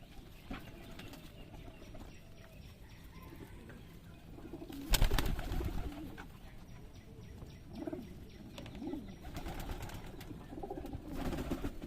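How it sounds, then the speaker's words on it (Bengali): Giribaz pigeons in a loft at a pigeon farm, soft low cooing and occasional wing flutters and scuffles against faint background noise, with a louder flapping burst midway. "এটা হলো আমার কবুতরের ঘর এইগুলো হলো কবুতর থাকার খোপ"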